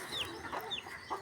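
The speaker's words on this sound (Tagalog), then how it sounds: "Ayan po yung ating mga manok." Chickens, including Brahma and Rhode Island hens, cluck softly in a small fenced garden pen, a few faint, brief calls against quiet outdoor background.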